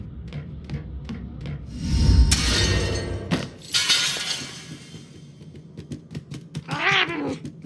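Cat in the video game Murdered: Soul Suspect, with sharp glass-breaking crashes midway through and a wailing meow near the end, among soft footsteps and taps.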